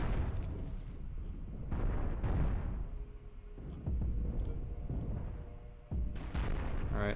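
Starship reactors blowing up in the space combat game Cosmoteer, a series of loud, rumbling explosion bursts and booms layered over continuous battle noise, with no talking.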